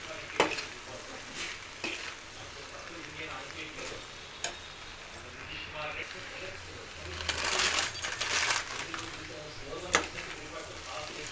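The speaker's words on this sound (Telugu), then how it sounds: "ఇప్పుడు కొంచెం తగినంత ఉప్పు వేసి మధ్య మధ్యలో కలుపుకుంటూ ఫ్రై చేసుకోవాలి." Okra frying in a pan with salt, stirred now and then, with a steady low sizzle, sharp scraping clicks of a spoon against the pan and a louder burst of frying noise midway.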